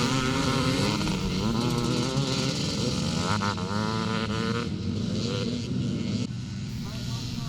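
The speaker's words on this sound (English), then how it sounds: "156 is David Bateman on that Honda 4-stroker." A Honda four-stroke classic racing motorcycle howls past at a Penrith race, its engine note climbing and shifting through revs, loud and close, then easing as it moves away while a commentator talks over it.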